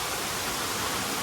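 A waterfall at Katiki Falls near Araku, heard from very close: a dense, steady broadband roar of falling water, loud and unbroken throughout with no voices.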